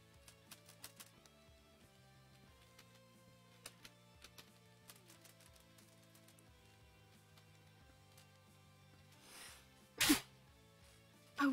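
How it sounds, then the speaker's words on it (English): A single sharp sneeze bursts out near the end, loud and close, after a stretch of quiet clicking and soft tones from a Minecraft game session. "I was not able to stop the sneeze in time"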